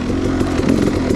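A 2016 KTM 300 XC, a carbureted non-counterbalanced two-stroke dirt bike, runs with a loud, steady, raspy buzz under load, close up and continuous with no talk.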